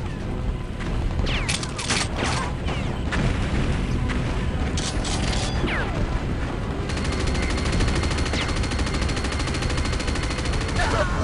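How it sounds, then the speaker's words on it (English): Mortar shells in Elite Dangerous rain down from above in a dense, continuous barrage of loud booms and crackling gunfire, with sharp blasts layered over a constant rumble. "Mortars coming in from above."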